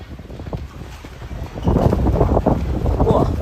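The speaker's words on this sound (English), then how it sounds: "Wow, the wind quite strong." Strong gusting wind buffets the microphone on a street in Kuta, Bali, rising to a loud, roaring rush halfway through and staying heavy to the end.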